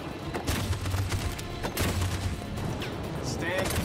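Covering gunfire in the Detroit: Become Human video game, a dense fusillade of overlapping shots and booms in loud bursts that come and go, with voices underneath.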